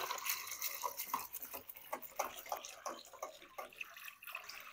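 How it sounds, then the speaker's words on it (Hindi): Water is poured into a bowl of whisked yogurt for kadhi pakora, a soft run of splashes and drips at low level with no talking. "अब इसमें मैं पानी डाल दूंगा।"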